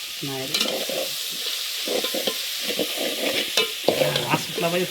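Oil goes into a pan and khichdi fries with a close, continuous sizzle, while a utensil scrapes and stirs in repeated, uneven strokes.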